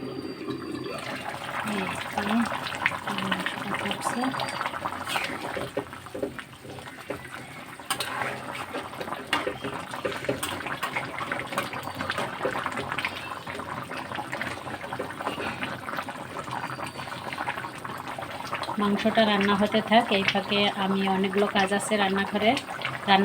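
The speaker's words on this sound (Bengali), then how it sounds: "মাংস ফোটার শব্দ হচ্ছে দেখুন কেমন করে মাংস ফুটছে" Meat boiling in a cooking pot, a steady bubbling and simmering that carries on throughout, with a voice talking over it.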